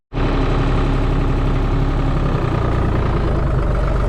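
A tractor engine starts up and then idles loudly and close by in a pistachio orchard, a steady low rumble with vibrating mechanical clatter throughout, no voices present.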